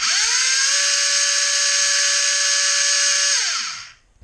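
An electric motor on a test bench winds up fast to full throttle, holds a loud, steady high-pitched whine for about three seconds, then automatically shuts off and spins down.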